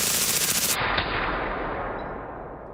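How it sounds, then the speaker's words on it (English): Rapid burst of gunfire from a semi-automatic gun fitted with a forced reset trigger, a fast rattling string of shots cut off abruptly and followed by a fading echo. "Here's the sound of a reset trigger."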